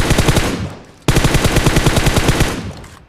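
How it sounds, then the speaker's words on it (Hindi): Rapid, loud gunfire bursts from an M24 sniper rifle in the PUBG Mobile video game, close and rhythmic, with a brief pause near the middle before the shots resume. "M24 का हेडशॉट देता हूँ।"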